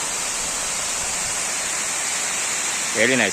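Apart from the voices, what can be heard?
water overflowing from Yeliv lake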